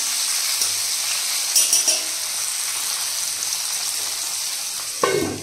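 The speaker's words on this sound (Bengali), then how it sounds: "একদম মিডিয়াম ফ্লেমে দিয়ে ঢেকে ঢেকে ভাজছি।" Cauliflower and potato frying over a medium flame in a covered pan, a steady dense sizzle throughout with a couple of brief utensil clinks near the end.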